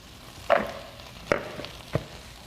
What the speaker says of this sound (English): you're just gonna stir fry that up with a little bit of olive oil